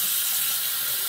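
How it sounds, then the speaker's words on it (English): Running tap water splashes steadily as a shaving brush is rinsed, a close, constant hiss with no voices. "Just kind of rinse the brush out a little bit."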